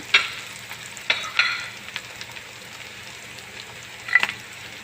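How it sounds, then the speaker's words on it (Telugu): Onions frying in a pan for an Arabic-style lamb machboos make a continuous crackling sizzle with several sharp stirring scrapes and clicks standing out, close and unaccompanied by speech. "ఆనియన్ కొంచెం ఫ్రై అయిన తర్వాత"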